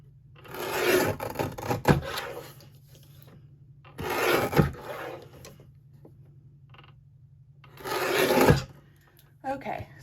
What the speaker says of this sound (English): I'm just going to trim close, but not too close to the edge